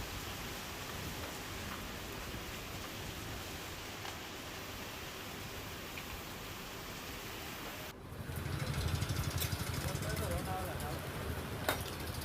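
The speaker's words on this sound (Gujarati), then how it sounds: "વાદળછાયા વાતાવરણની વચ્ચે વરસાદ વરસે છે" Rain falls in Gujarat under cloudy skies, a steady, even hiss throughout that grows noticeably heavier and closer partway through.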